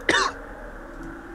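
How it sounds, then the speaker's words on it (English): A single short cough, close and fairly loud, in the middle of a multiplayer game session, followed by quiet background hum. "I coughed."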